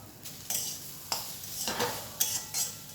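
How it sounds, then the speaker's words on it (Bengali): Papaya and carrot fry being stirred in a pan, a few distinct scraping strokes of a spoon against the metal over a soft background sizzle, close and moderately loud. "দেখুন আরেকবার নেড়ে দেখছি।"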